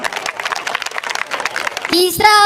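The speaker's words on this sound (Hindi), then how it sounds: "तालियां कमजोर है आप लोगों की।" Audience at a live Hindi comedy show claps in an uneven, scattered patter for nearly two seconds before a voice takes over and speaks loudly.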